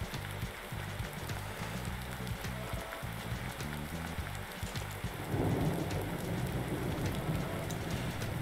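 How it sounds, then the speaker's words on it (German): A thunderstorm in the farming game Landwirtschafts-Simulator 19: continuous rain pattering on surfaces, with a low rumble of thunder swelling in about two-thirds of the way through and the downpour growing heavier. "Gewitter."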